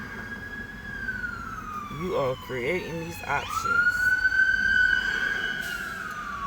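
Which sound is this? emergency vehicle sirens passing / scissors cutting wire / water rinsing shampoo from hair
emergency vehicle sirens passing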